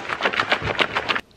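A Chipotle burrito bowl loaded with sour cream, cheese, lettuce and queso is shaken in its container, giving a near, rapid series of rustling, thumping bursts for just over a second before stopping abruptly.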